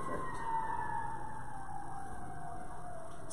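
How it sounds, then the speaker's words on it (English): Fire engine siren wailing outside through open windows on a sunny day, a steady fluctuating tone that sweeps up and down and stays fairly faint and distant for the whole stretch, with no one talking. "It's hard to catch the pitch drop, though, when the siren's fluctuating and when we're not moving"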